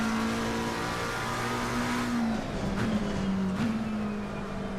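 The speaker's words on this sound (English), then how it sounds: "the engine's definitely gonna be pretty loud when I'm on a straight or something" Race car engine in the Assetto Corsa Competizione racing game, a steady sustained drone at moderate level with a few brief pitch dips and rises near the end, heard alone without talk.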